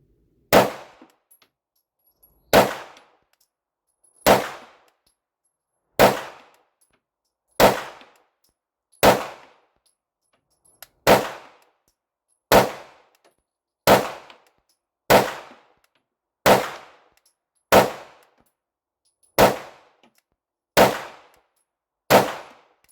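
Shots ring out from a Canik TTI Combat pistol fired at a target, about fourteen loud, sharp reports at an even pace of roughly one every one to two seconds, each with a short ringing decay and quiet between them.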